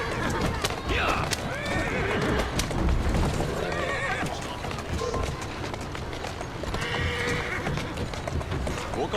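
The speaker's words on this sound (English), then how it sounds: "Who's a good horse?" A horse neighs and whinnies with clopping hooves in the Assassin's Creed Syndicate video game, close and loud, the whinnies rising at the start and again near the end over steady hoofbeats and busy background noise.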